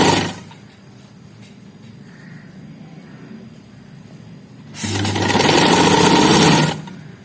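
Sewing machine stitching a sherwani collar band onto a shirt, a quiet mechanical hum rising into a loud, steady run of stitching for about two seconds, then stopping, no voices.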